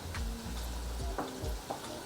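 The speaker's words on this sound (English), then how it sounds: "so now we're just gonna stir this around." Vegan Thai red curry being stirred in a pan, a continuous sizzle with several soft scraping strokes of the utensil, fairly close and without talk.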